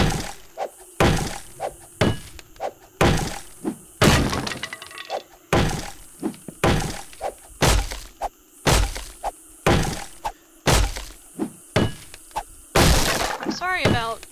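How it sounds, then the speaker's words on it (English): A fire axe chops and breaks objects in the video game 7 Days to Die, with about a dozen heavy, evenly spaced thunks and cracking, shattering hits, and a voice talking underneath. "I'm gonna use the fire axe anyway because reasons. And just gonna take these out."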